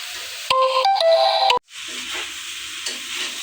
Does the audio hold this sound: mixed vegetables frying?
yes